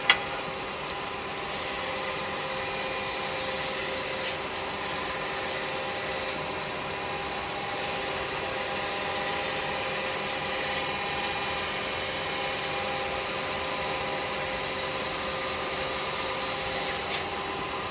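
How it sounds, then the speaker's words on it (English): Steady, continuous sanding on a freshly turned wet-wood cheese knife, a broad even rubbing hiss that holds nearly unchanged throughout, close and moderately loud with no talking. "So I'm going to do loads of sanding on this."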